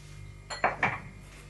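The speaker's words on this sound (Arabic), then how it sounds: "نخلط هاد النواشف مزيان مع الدقيق" Dry ingredients such as almonds and sesame being mixed into flour in a bowl, two or three quick clattering scrapes and knocks in a short burst.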